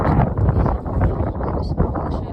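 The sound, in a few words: strong wind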